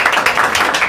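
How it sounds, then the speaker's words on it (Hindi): Applause for a teacher at a school gathering celebrating class 12 board exam results, a dense burst of many hands clapping together, loud and continuous. "सर के लिए एक बार जोरदार ताली सर के लिए"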